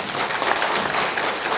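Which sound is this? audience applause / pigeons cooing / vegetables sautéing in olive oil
audience applause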